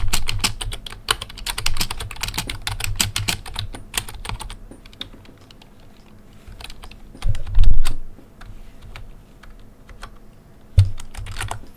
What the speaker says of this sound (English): Excuse my bad typing skills.